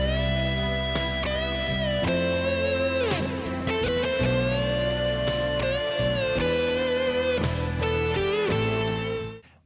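Electric guitar plays a lead line, with sustained, bending melodic notes over a backing of chords and bass, steady and prominent with no talking.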